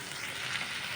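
Ridge gourd pieces fry in a pan with a soft, steady hiss of hot oil, heard close and alone for a brief moment.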